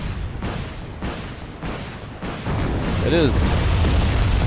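Artillery barrage in the war strategy game Wargame: Red Dragon: a series of heavy booms at regular intervals, then a denser rumbling roar, with someone briefly talking over it.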